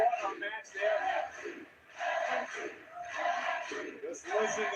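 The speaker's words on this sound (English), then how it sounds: "Just listen to the crowd here at NXT." A wrestling crowd at an NXT event swells in rhythmic waves of chanting and roaring, rising and dipping several times, with a commentator's voice mixed in among the noise.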